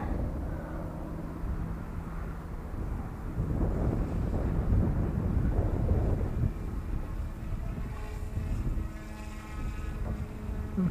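Small OMPHobby M2 Explore RC helicopter flying a rescue function test outdoors, a continuous buzzing whine of rotor and motor that swells and shifts in pitch as it manoeuvres, with no talk.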